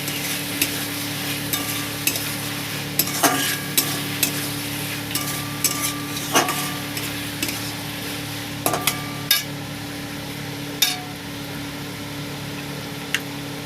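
Food frying in a pan as a spoon stirs it, a steady sizzle broken by repeated sharp scrapes and clinks of utensil against metal at irregular intervals.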